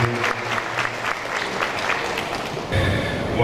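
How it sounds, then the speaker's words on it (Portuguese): Audience applause at an agricultural trade show seminar welcoming a speaker to the stage, a dense sustained burst of many hands clapping that swells near the end. "Fuerte el aplauso a Sip Simoes."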